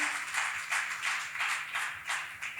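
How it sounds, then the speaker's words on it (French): Light, rhythmic clapping from a small audience at a Miss Universe DR Congo contest, a faint, fairly regular patter of about a dozen claps over a couple of seconds. "Sous vos applaudissements, bien sûr."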